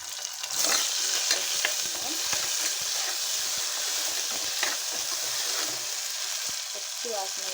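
Onions and ginger-garlic-coriander paste frying in oil for a drumstick fry, a steady, dense sizzle with scattered light stirring clicks throughout, close and continuous with no talking.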